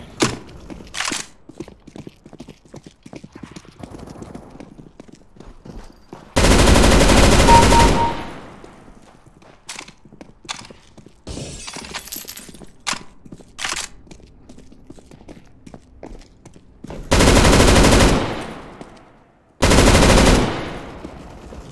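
Automatic gunfire from Counter-Strike: Global Offensive deathmatch play against bots: three loud sustained bursts separated by scattered single clicks, thuds and footsteps.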